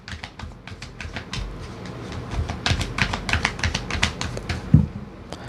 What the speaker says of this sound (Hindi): चलिए फिर शफल कर लेते हैं।